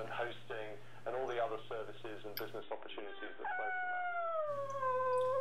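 A dog howls in a house, a long wavering tonal wail with rising and falling pitch after a stretch of speech, set over a low electrical hum.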